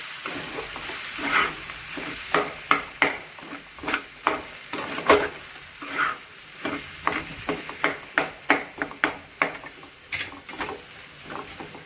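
Yellow potato sabzi fries in a pan while a spoon stirs it repeatedly, giving a steady close sizzle broken by regular scraping strokes across the whole stretch.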